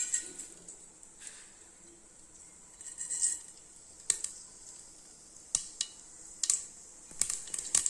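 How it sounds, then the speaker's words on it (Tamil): Mustard seeds splutter in hot ghee and oil, giving scattered sharp little pops and crackles at irregular intervals over a faint sizzling hiss, growing busier toward the end. "கடுகு பொரியுதுங்க"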